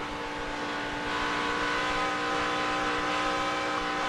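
NASCAR pickup trucks race past at Michigan in the 2007 Michigan 200, a loud, steady wall of engine roar with no break, heard alone without talk.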